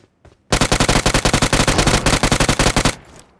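Rapid automatic gunfire in the BGMI battle royale video game, a loud sustained burst of closely spaced shots lasting over two seconds, with a brief pause midway and no talking.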